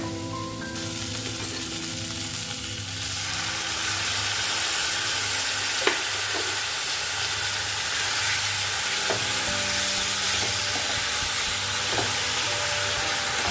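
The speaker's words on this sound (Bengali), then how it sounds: "এরপরে আমি এই ভাজাটার মধ্যে ঢেলে দেব।" Tomato sauce and chili sauce poured into frying chili chicken raise a loud, steady sizzle and hiss, with occasional spoon knocks as it's stirred, no voices.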